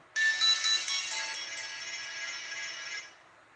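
A few brief electronic chirps open a sustained high tone from a U340 warning siren that fades gradually away as it shuts down.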